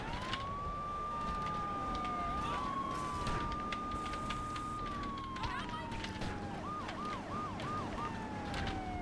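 A police car siren in the video game GTA 3 wails continuously and close during a chase, sweeping up and down and then switching to a faster yelp pattern.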